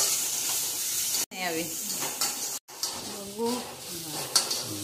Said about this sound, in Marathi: आणि त्याला चांगला असं सुगंध येईपर्यंत परतून घ्यायचं, कारण की ती मिरची अद्रक त्याला सापडून घ्यायची